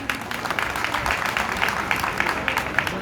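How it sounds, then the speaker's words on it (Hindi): A mushaira audience breaks into steady applause: a dense patter of many hands clapping at once, held at a moderate, slightly distant level for a few seconds. "एक बार आप तालियां बजा के मुझे हुक्म दे दें"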